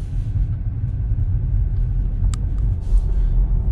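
A Tesla pulls away after a stop sign as the driver touches the accelerator, heard from inside as a steady low road and motor rumble with a couple of faint clicks and no talking.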